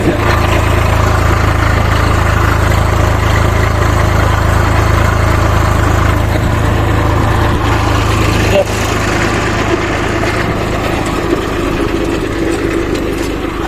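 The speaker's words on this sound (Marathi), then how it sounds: "परत आपण ट्रॅक्टर चालतो" A tractor engine running steadily nearby, a loud continuous low rumble that shifts slightly partway through.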